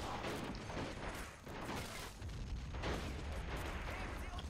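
Repeated heavy booms of artillery cannon fire and bursts of gunfire rumble in a dense, noisy battle scene in the game Men of War, with voices talking faintly underneath.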